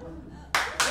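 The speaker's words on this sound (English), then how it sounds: "Does not deserve applause." A burst of audience applause breaks out at a stand-up comedy show, loud and sudden clapping that starts after a quiet moment and swells near the end.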